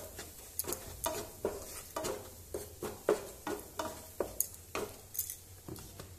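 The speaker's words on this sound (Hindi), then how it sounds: "ये जो हमने मसाले भून के रखे हैं वो डाल देंगे और बस हल्का सा इसमें मिक्स होने देंगे मसाले को।" Roasted spices are stirred into hot smoking oil for a carrot and radish pickle, with a quiet sizzle under repeated, fairly regular spoon scrapes and clinks against the pan.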